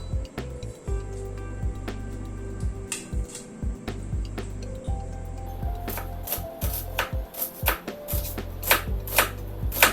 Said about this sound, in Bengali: পেঁয়াজটা কেটে নিলাম